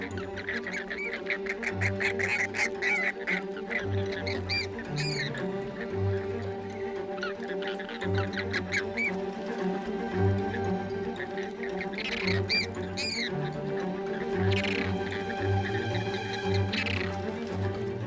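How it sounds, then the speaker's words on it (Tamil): Wild male birds fight as a group attacks one male, with repeated harsh squawks and quacking calls over a steady chorus of other birds. "இங்க ஒரு ஆண் பறவைய மற்ற ஆண் பறவைகள்லாம் சேர்ந்து தாக்குது."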